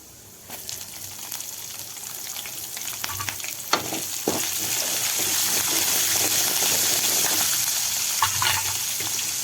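Chopped onions sauté in hot oil for a paniyaram recipe, a continuous close sizzle with scattered crackles and stirring scrapes building steadily louder.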